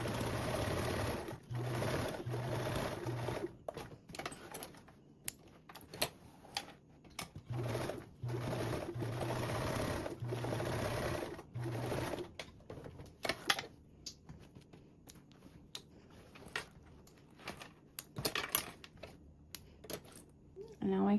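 Sewing machine stitching a 1/8 seam allowance to baste the sides onto a convertible duffle bag, running in short repeated bursts with pauses, then stopping, followed by scattered clicks and fabric handling, with a voice talking at times.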